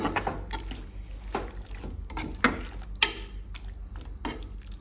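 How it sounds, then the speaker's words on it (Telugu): Water poured into a pot of chicken curry seasoned with chili, salt and masala, a soft continuous splashing and trickle with a few sharp clinks of a utensil against the vessel, close and fairly quiet. "ఇప్పుడు ఇందులో కొద్దిగా వాటర్ పోసుకుందాం"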